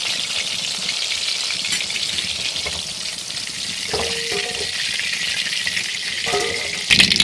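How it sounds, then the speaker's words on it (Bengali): Chicken pieces fry in oil on a low flame for chilli chicken, a close, even sizzling hiss with occasional scrapes of a strainer and a clatter at the end, with no talking. "লো ফ্লেমে দিয়ে ভাজতে হবে, না তো গাটা পুড়ে যাবে, এদিকে চিকেনগুলো ভালো ফ্রাই হবে না"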